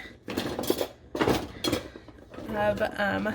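A measuring spoon is pulled from a kitchen drawer: the drawer slides with a few clinks of metal utensils, close and moderately loud, while someone talks over the sounds.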